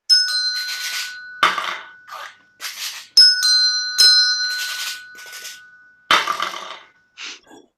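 Small bells struck one after another in a notated new music piece, bright ringing tones alternating between a lower-pitched and a higher-pitched bell, some left to ring and others stopped short, with gaps of silence between the strikes.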